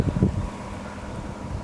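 Low, steady wind rumble buffeting the microphone on a mountain road near Wheeler Peak in Great Basin National Park, with a few stronger gusts at the start, no voices.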